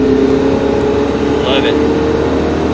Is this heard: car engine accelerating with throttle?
yes